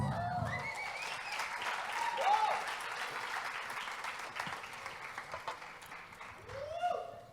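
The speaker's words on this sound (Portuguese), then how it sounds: "Uma salva de palmas para eles." An audience at an indoor talk claps, a soft, steady patter of many hands with voices calling out over it, fading near the end.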